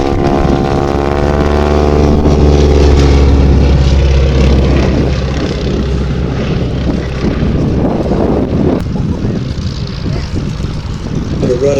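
A propeller-driven wingwalking display aircraft at Sywell Airshow drones loudly and steadily as it passes at slow speed, the engine tone shifting as it goes by; a voice talks over it.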